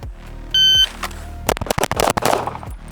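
An STI DVC pistol fired at shooting practice: a timer beep, then a rapid string of sharp, loud, close gunshots in quick succession, with a short pause after the first shot.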